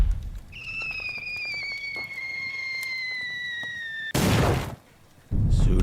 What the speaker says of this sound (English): The British mortar team launch another bomb.